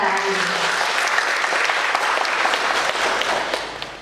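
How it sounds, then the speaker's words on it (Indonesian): A crowd at a halal bihalal gathering for Eid al-Fitr applauds warmly, dense continuous clapping holding steady before tapering slightly at the end, with a faint voice briefly underneath at the start. "Kita berikan tepuk tangan yang meriah untuk acara ini."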